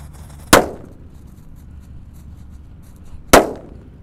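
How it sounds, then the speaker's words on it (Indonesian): Disco happy flower firecrackers, five lit together, burst in two sharp, loud bangs a few seconds apart, each trailing off quickly over a low outdoor rumble. "Selanjutnya ini ada mercon disco happy flower lap-lap door. Kita menyalakan 5 sekaligus."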